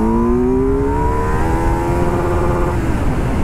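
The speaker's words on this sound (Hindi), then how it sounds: "चलो सेकंड गियर में पुल करते हैं" A Kawasaki Z900 motorcycle pulling hard in second gear on an open road, a loud continuous engine roar that climbs steadily in pitch over heavy wind rush.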